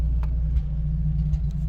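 Turbocharged 1JZ engine in a Lexus IS300 with an open downpipe, a loud, deep, close rumble that runs steadily throughout.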